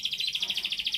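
A songbird for sale, an F1 bird with green plumage, sings a rapid, steady series of bright repeated chirps, close and clear with no talking over it.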